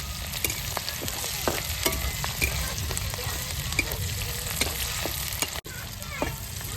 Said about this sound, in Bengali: এই দেখো পেঁয়াজটা ভাজা ভাজা হচ্ছে লাল লাল করে।